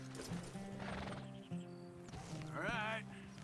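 A horse in the video game Red Dead Redemption II neighs, a shrill whinny close by following soft snorting and tonal game sounds.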